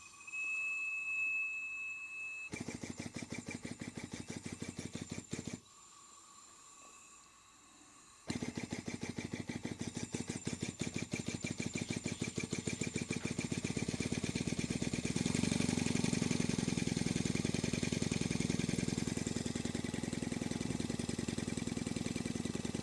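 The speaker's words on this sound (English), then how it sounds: "I've got it connected up to an airline. I'll give it a go." A Stuart Turner Sirius marine steam engine runs on compressed air from an airline. It gives quiet, rapid, rhythmic chuffing and ticking after a few brief stops and starts, with a thin whistle early on and no talk.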